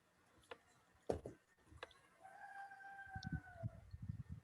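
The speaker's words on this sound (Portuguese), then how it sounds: "Ó, o galo." A rooster crows once at middle distance, a single drawn-out call over quiet background with a few clicks and knocks before and soft thumps after.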